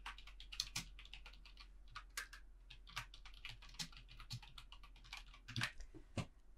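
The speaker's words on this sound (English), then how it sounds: "type in your message" Quiet typing on a computer keyboard while writing a journal message, with steady, irregular key clicks close by and no talk.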